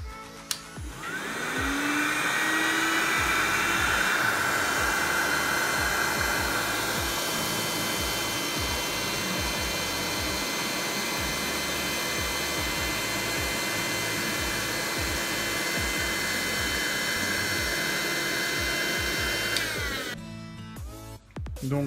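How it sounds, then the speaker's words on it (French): A Liumy electric pump runs steadily while inflating a ball, a loud continuous motor whine and airflow hum lasting about twenty seconds, starting abruptly and cutting off near the end. "Dernier test de gonflage avec la pompe Liumi."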